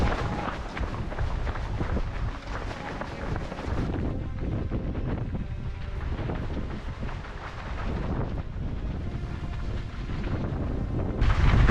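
Strong gusting wind roars loudly across the microphone throughout, a heavy, continuous rumble with brief dips and surges, during a 100-mile trail race in Sweden.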